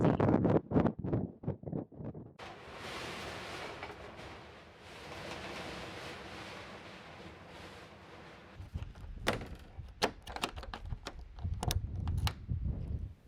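Gusty Arizona winter wind roars across the microphone outdoors, building into a sustained rush mid-clip, with sharp knocks and rattles before and after.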